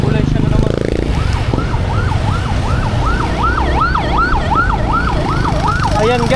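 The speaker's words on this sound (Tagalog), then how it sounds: "Uy, may ambulansya na naman." An ambulance siren wails loud and continuous in a steady up-and-down sweep, passing along a city street over heavy traffic rumble.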